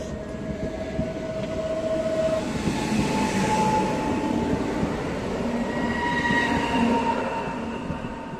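Train departing slowly from Łódź Chojny station, a loud close rumble of rolling wheels with faint squeals and tonal whines over the rails, steady throughout with no talk.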